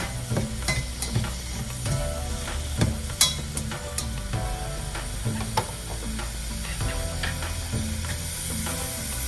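Onions and garlic fry in a pan for Kerala-style kadhamba sambar, giving a loud, steady sizzle broken by frequent clinks and scrapes of a utensil against the pan, close by and without talk.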